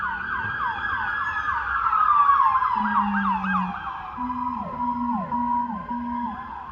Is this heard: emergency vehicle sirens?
yes